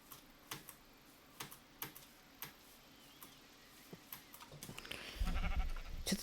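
Computer keyboard keys clacking in scattered, uneven taps close to the mic during a modded Minecraft live stream, with a louder burst of rustling noise near the end.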